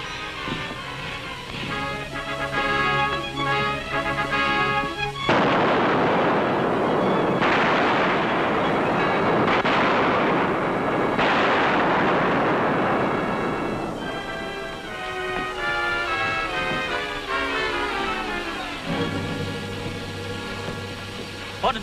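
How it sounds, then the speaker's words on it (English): Loud, sustained booming gunfire and blasts fill a tunnel scene in an old western, dense and continuous under dramatic music, with no voices. "What did those shots mean?"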